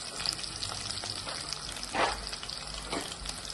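Mutton pieces fry in a pan for mutton curry, a steady close sizzle with a few louder stirring bursts.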